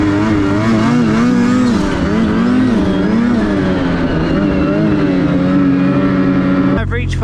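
A Ski-Doo Summit X Expert Turbo snowmobile rides through deep powder with a loud, close engine drone and a rising and falling whine from the spooling turbo, steady throughout and cut off by a brief clatter at the end.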